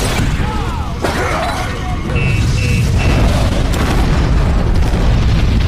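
A warehouse hit by a molotov bomb erupts in a film explosion, a sustained loud roar and rumble with crackling bursts that builds and stays dense throughout.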